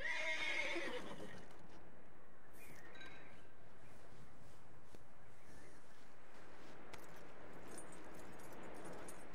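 A horse in Red Dead Redemption 2 whinnies loudly at the start, then quiet shuffling and faint rustling follow.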